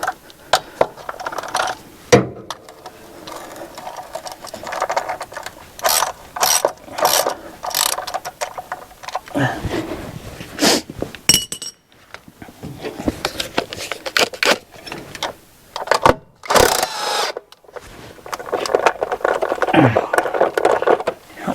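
A ratchet works a rusty bolt loose on a 1961 Buick Electra parked for over 40 years, close-up rapid clicking strokes in uneven bursts with scraping and clunks between.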